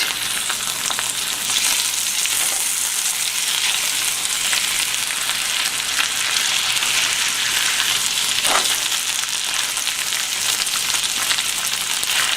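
Ground beef sizzles in a hot pan as a dense, constant frying hiss, loud and close, with occasional brief scrapes.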